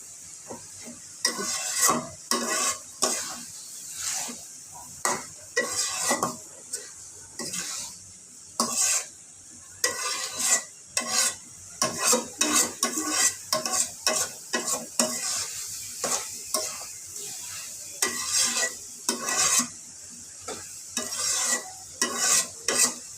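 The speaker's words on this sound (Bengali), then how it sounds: "এখন একটু নাড়াচাড়া করে নামিয়ে ফেলবো" A spoon repeatedly scrapes and stirs a fried vegetable dish in a pan, with irregular clattering strokes over a soft background sizzle, close and fairly loud throughout.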